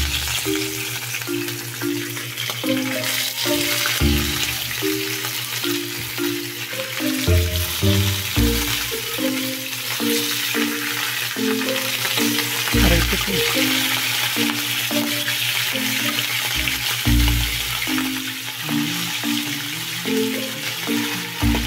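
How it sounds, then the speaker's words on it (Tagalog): Hot oil sizzles loudly and continuously as sliced fish fries, and now and then metal utensils clank against the pan while some background music plays low. "Okay, sugdan na natin prito ang hiniwa ng mga isda."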